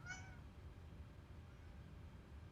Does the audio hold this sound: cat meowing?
yes